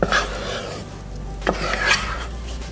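Cream puff dough stirred in a pan, a close scraping and rubbing of a spoon against the pan with a few stronger strokes standing out, alone without talk.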